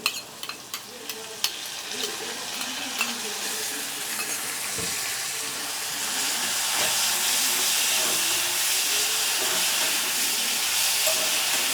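Onion, garlic, chili and ginger paste frying in a pan, with a few sharp clinks of stirring at first, then a steady sizzling hiss that grows louder and fuller, no talking.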